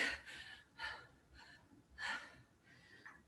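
Heavy, labored breaths during a HIIT workout, several loud gasping exhales in an uneven rhythm close to the microphone, with no speech over them.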